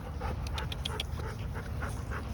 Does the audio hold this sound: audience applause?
no